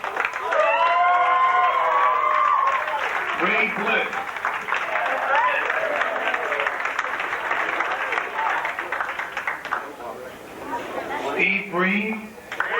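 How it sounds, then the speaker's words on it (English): Round of applause and cheering from a crowd at a 1990 high school football banquet in a VFW hall, sustained clapping under names being announced over a speaker, with shouts rising near the end. "we'll give you a nice round of applause"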